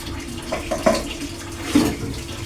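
Dishes left from lunch are washed under a running tap, with a steady close rush of water and a few soft clinks and splashes from the utensils, and no talking.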